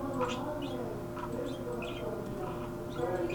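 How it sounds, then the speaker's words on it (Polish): Pet parrots let out several short, soft chirps and tweets at irregular intervals. The calls sit faintly over a steady indoor background hum. "I przepraszam was za papugi."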